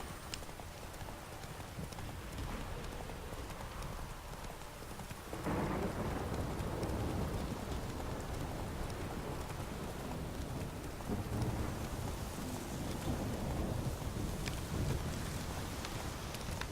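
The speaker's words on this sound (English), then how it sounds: "That storm's pretty intense." Thunderstorm in The Witcher 3: steady heavy rain with rolling thunder and a sudden louder surge midway, with horse hooves clopping underneath and no speech.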